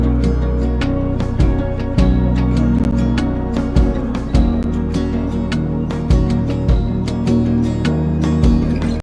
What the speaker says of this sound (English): Then I have a continuous hi-hat that plays throughout that just does a good job gluing all of our other drum layers together.